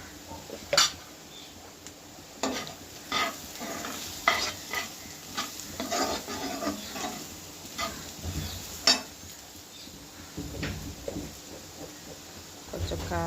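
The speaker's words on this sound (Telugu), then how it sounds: "ఒకసారి తీసి చక్కగా కలుపుకోవాలి" Food frying in a pan is stirred and mixed, with repeated scraping strokes of a utensil over a steady sizzle, close and fairly loud throughout.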